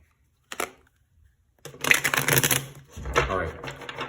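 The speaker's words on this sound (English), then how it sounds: "Let's get a couple more shuffles." Tarot cards being shuffled in bursts, a short riffle near the start followed by a longer, louder run of crisp card flutter and slapping, close up with no talk.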